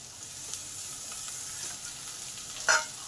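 Chopped onions tipped into a pan of potatoes already frying for a Bengali prawn posto curry, giving a steady low sizzle with a brief louder burst near the end.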